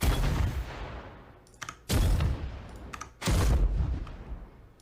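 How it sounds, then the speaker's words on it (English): Heavy booming explosions from the Styanax spear ability in the game Warframe, three large blasts a second or so apart, each with a loud thumping onset and rumbling decay. "And there's explosions that go along with those."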